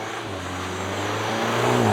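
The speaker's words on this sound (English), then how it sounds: "putting it here into the race mode, and German Autobahn with acceleration from 50 kilometers an hour" A Volkswagen T-Roc R facelift with 300 horsepower, in race mode on a German Autobahn, accelerates from 50 km/h with a steady, rising engine drone heard up close from inside, alone and building slightly in loudness.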